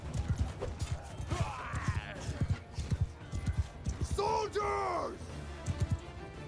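Horse hooves clip-clop in a rhythmic run during Mount & Blade II: Bannerlord gameplay, with a horse whinny in the middle and someone talking and exclaiming over the sound.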